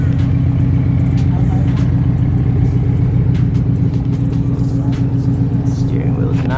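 Lowered BMW F30 sedan rolling up nearby, a loud, steady low engine rumble filling the whole stretch, with a person talking over it.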